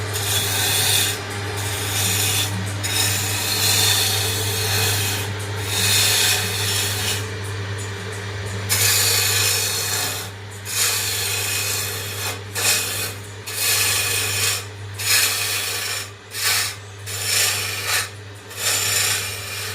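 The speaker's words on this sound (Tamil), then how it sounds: "பார்த்தீங்களா இந்த உளி எப்படி வேலை செய்யுதுன்னு?" A hand chisel scrapes over wood, rasping and rubbing in close, repeated strokes with brief pauses between them, over a constant low background hum.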